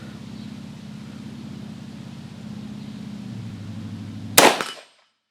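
A single sharp rifle crack, fired left-handed from behind cover at a shooting range, rings out loud and close near the end, preceded by a low steady engine-like drone and followed by a quick decaying echo.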